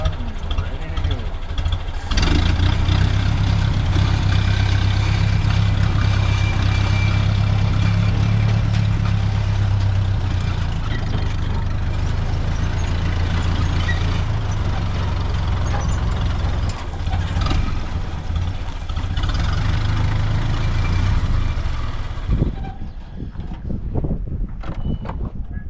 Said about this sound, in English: turn the key on, pull the choke out, and hit the starter. She starts, pull the spark lever back down, and we're ready to go.